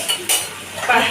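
A utensil stirring soybean mixture in a pan in a home kitchen, a couple of scraping, clinking strokes against the metal, close and fairly loud.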